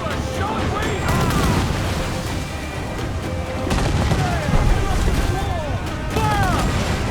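Ship cannons fire a broadside in Assassin's Creed IV Black Flag as a dense, continuous barrage of booms. Music and shouting voices run over it at a steady loud level.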